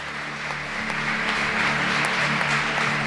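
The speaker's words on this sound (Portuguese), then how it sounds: "Aplauda o Senhor por isso." A church congregation at an evangelical service applauds steadily for a few seconds, a dense, even wash of clapping heard from within the hall.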